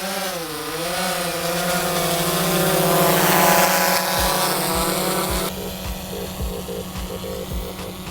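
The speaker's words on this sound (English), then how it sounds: "It is quite a noisy drone, especially right now where there's no noise, and this is the only noise." A loud, steady propeller buzz from a SplashDrone 4 waterproof drone flying in the rain, with a droning, slightly wavering pitch, close by and continuous, punctuated later by a few soft thumps.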